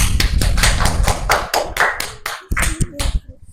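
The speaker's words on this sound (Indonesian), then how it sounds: "Iya, tepuk tangan." A classroom group claps for a few seconds after a presentation, quick uneven hand claps that thin out toward the end, with some voices mixed in.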